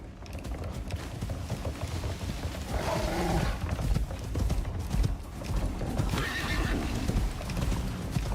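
Horse-like creatures in the survival video game Icarus gallop with steady clopping hoofbeats and let out whinnying neighs, set against a busy, creaking in-game background.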